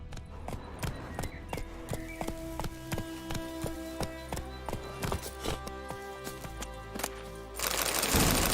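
Roach the horse's hooves clop in a steady, rhythmic gait across hard ground in The Witcher 3, each strike crisp and close, before a sudden loud burst of broad noise near the end.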